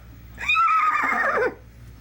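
A man imitates a horse neigh with his voice, a single loud, wavering whinny lasting about a second that rises sharply and then trails off, heard close and alone.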